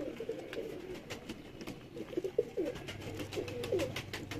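Pigeons in a Lahore loft coo softly in repeated low, throaty phrases throughout, fairly close but quiet, with no talking.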